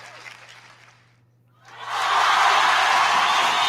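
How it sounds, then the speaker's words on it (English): Clapping and crowd cheer played through a newly connected speaker swell in after a brief near-silent gap, becoming a steady, dense wash of applause that continues to the end. "Can you hear that clapping?"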